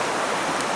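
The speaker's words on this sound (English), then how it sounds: "it's a nice river behind you" A river flows steadily behind a campsite, a dense, even rush of water that is loud and continuous without any break.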